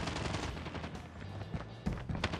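Rapid gunfire crackles through a hide-and-seek mode of an online video game, quick irregular shots and short bursts at moderate distance, fairly quiet, with no talk.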